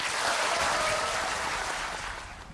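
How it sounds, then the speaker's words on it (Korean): Audience applause at a Korean event about a documentary film on the media, a dense wash of clapping that holds steady and then begins to fade. "응원의 박수 쳐주시기 바랍니다"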